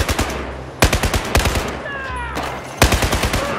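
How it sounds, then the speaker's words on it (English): Bursts of automatic gunfire in the Battlefield 4 video game, several rapid volleys of loud close shots separated by brief pauses, with a faint high whine between bursts. "Good shooting, Wrecker!"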